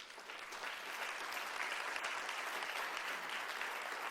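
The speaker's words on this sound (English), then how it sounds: "can we hold our applause until it's all over?" Applause breaks out among attendees at a city planning commission meeting in West Hollywood, a steady wash of clapping from a roomful of people that swells slightly and holds at a moderate, slightly distant level.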